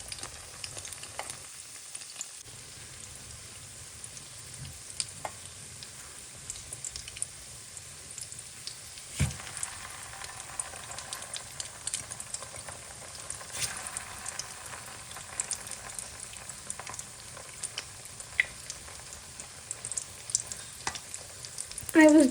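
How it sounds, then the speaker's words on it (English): Cutlets frying in a pan with a steady, close crackling sizzle running throughout, broken by occasional clinks and scrapes as they are turned and moved. "this is me frying all the cutlets, speed frying at this moment"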